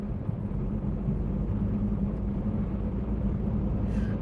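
An over-the-road truck drives along a road, a steady low engine and road rumble heard from inside the cab, constant and even with no talk.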